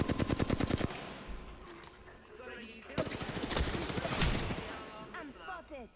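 Automatic gunfire rattles in fast bursts during an Apex Legends match, with sharp individual shots and a stretch of sustained firing while players talk excitedly over the action.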